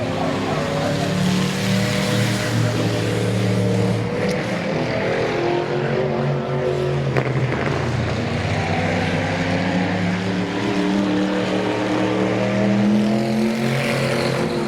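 Race cars circling a Midvale dirt-to-asphalt speedway at night, loud continuous engine roar with shifting pitch as cars sweep past, close and steady throughout.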